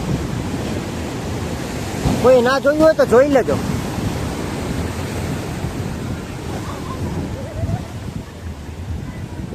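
Sea waves at the Porbandar seashore, a steady broadband wash of surf with wind noise over the microphone, heard throughout with a brief burst of voices near the start.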